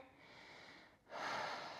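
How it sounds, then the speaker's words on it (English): Close, quiet breathing during a general yoga practice: a long, steady airy exhalation, a brief pause, then a stronger, rushing breath through the nose and throat. "Keep the breathing cycles nice and clean and clear."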